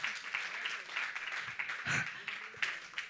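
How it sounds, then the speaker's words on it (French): Audience applauding a comedian on stage during a variety show, a fairly faint, steady patter of clapping with a few louder bursts. "vous pouvez continuer à applaudir"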